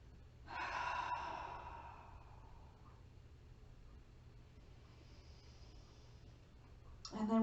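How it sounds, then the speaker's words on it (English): A deep breath during a chair yoga session, one long audible inhale and sigh-like exhale up close, then quiet room tone before another breath starts at the end. "Breathe."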